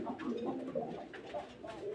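Red Lahori fancy pigeons, a farm-bred pair, give soft, low rolling coos close by, continuous and murmuring.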